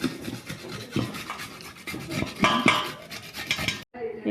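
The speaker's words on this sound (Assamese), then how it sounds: "এতিয়া মই এখন ৰুকনিতে ধুনীয়াকৈ এনেকৈ মিহি ৰুকি ল'ম।" Raw papaya being finely grated on a kitchen grater, a steady run of scraping strokes with metallic rasping and clinking, close and fairly loud, with no talk.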